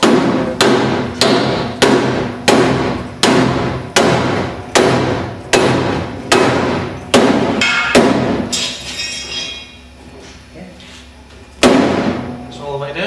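A soft mallet strikes a part in a steady, evenly spaced series of about a dozen loud, close thumps, then pauses briefly before one more knock.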